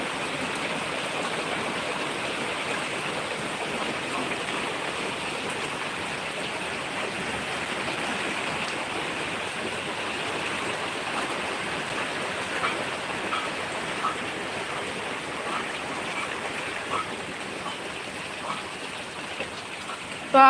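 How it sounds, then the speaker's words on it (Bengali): Heavy rain falls steadily outdoors, a dense even hiss with no breaks, moderately loud and close, with no talking over it. "বৃষ্টি, বিশাল জোরে বৃষ্টি এসছে"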